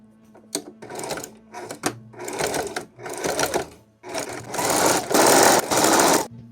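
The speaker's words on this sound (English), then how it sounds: "I've prepped my sewing machine with the correct needle, black thread, and now I'm going to do a straight stitch securing this" A sewing machine runs a straight stitch in black thread in bursts, stopping and restarting several times with a dense whirring chatter. The last runs are longer and louder, up close with no talking.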